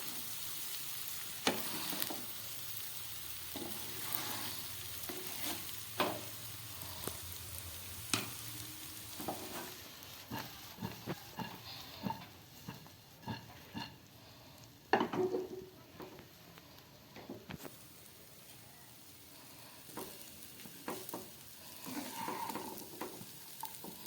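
Mixed fried rice stir-fried in a pan in a restaurant-style preparation, with a steady sizzle and frequent scraping and tossing strokes running throughout, a louder clatter around the middle.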